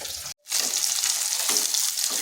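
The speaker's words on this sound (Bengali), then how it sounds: "মাছগুলো ভাজা হয়ে গেছে, তুলে নিচ্ছি।" Rohu fish pieces frying in hot oil give a loud, steady crackling sizzle that breaks off for a moment near the start, then carries on densely without pause and with no talking.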